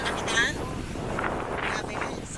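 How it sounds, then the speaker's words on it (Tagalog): Strong wind gusts across an outdoor seaside crab market in Kep, Cambodia, buffeting loudly and steadily throughout, with a voice faintly present under the roar. "Sobrang lakas ng hangin"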